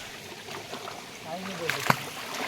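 A clear mountain stream runs beside a trekking path to Sathuragiri, giving a steady, close rush of flowing water with a few brighter splashy spikes near the end, while voices talk over it.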